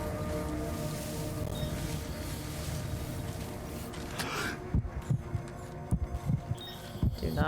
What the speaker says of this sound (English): I'm really not a fan of the heartbeat sound whenever Sam holds his breath